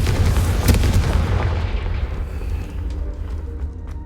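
A Confringo spell explodes in Hogwarts Legacy, a loud, close, deep blast that booms at the start and then slowly fades into a rumbling tail.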